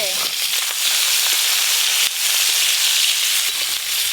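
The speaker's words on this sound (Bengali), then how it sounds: "ওই তেলে মাছের মুড়োগুলো ভেজে নেব।" Hilsa fish heads frying in hot mustard oil in a home kitchen, a steady bright sizzle and crackle with a few sharper pops throughout.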